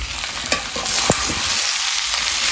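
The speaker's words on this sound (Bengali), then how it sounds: "দেখো রান্না করছে কি" Broiler chicken meat sizzles and fries in a pan, a steady close hiss with a few sharp stirring scrapes and clatters early on.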